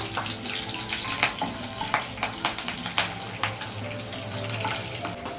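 Cumin, mustard seeds and green chillies crackle and sizzle in hot oil for a bharit-style brinjal dish, a steady close frying hiss broken by sharp pops and stirring clinks, with no talking.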